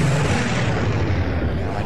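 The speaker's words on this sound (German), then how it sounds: "das ist bloß so explodiert" A deep, rumbling explosion-like boom from the video game Sniper Elite V2 Remastered, sustained throughout, loud and dense with low-end roar, no speech.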